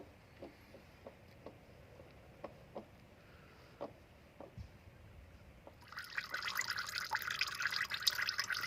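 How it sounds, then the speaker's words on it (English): Engine oil draining from a car's 17 mm oil drain plug, starting as faint scattered drips and building after about six seconds into a steady, louder trickling stream. "as soon as the oil started coming out is just how dark the oil was"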